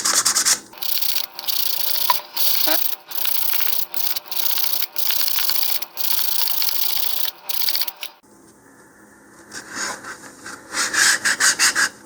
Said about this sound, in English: So I'm going to very quickly just give it a little bit of sanding here.